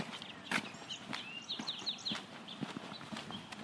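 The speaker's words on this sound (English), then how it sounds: "Lots of birds today." Birds call in short, high chirps and trills against a quiet outdoor background with a few soft knocks.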